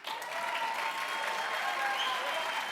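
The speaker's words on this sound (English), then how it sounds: "I thought I could get an applause line out of that." Audience applause at the 2015 RJC Forum, a steady, dense wash of clapping from a large crowd that holds evenly for the whole stretch.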